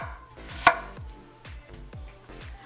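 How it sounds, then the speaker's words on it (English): Knife chopping watermelon pieces on a cutting board ahead of juicing, several firm rhythmic chops close up, one sharper knock standing out, with no talking. "So, I'm just going to chop some pieces here."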